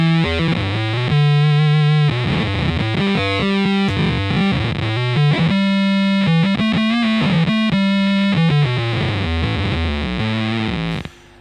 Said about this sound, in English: right now you're just hearing the subharmonic, and I set it to 1 octave down